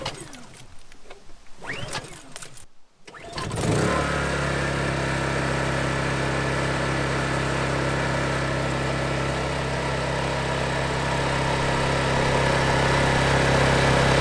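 A dual fuel generator running on propane aboard a truck camper starts after some handling noise, then settles into a steady, loud, continuous engine drone that holds for the rest of the clip.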